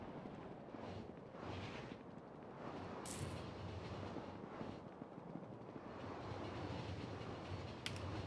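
Trains rolling through a Factorio factory base with Pyanodon's mod, a steady low rumble of wheels and rail noise running continuously with faint clicks on top.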